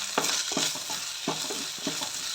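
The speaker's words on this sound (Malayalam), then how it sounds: "ഇഞ്ചിയും വെളുത്തുള്ളിയും പേസ്റ്റും ഇട്ടിട്ട് നന്നായിട്ട് ഇളക്കാം" A thick ginger-garlic paste with fenugreek and a slit green chili is stirred in a hot pan, with five or six distinct scraping strokes over a steady sizzle.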